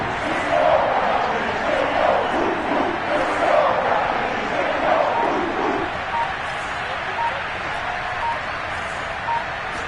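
A large American football stadium crowd roars and cheers steadily before a third down, a broad wash of many voices that swells and eases slightly.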